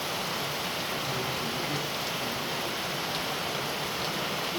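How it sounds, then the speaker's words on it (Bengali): Steady rain pours down over a tea garden, a dense, even hiss of drops on leaves and ground that stays constant and fairly close throughout, with no voices. "আহ কি বৃষ্টি কি প্রকৃতি কি আনন্দ"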